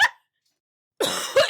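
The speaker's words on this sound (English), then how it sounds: "Me clearing my throat" A short throat-clear opens the clip, then a second of silence, then a rough, raspy clearing of the throat close to the microphone, with no speech.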